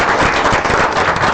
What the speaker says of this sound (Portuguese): salve os palmas aí para a Juliana